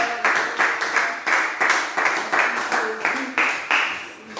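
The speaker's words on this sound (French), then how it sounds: "Acclamons le Seigneur, acclamons le Seigneur." A congregation claps in a steady, rhythmic beat during a live-streamed worship service, loud and continuous, with voices cheering beneath the clapping.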